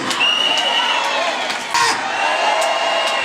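A church congregation cheers and shouts in a steady crowd roar with whoops, close and sustained, while a voice carries on over it.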